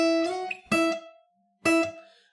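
A dark folk guitar phrase in harmonic minor: three short, abrupt staccato notes or note clusters with clear pauses between them, including a slide up the neck, played alone and close.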